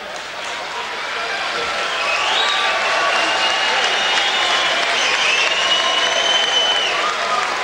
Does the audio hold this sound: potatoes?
no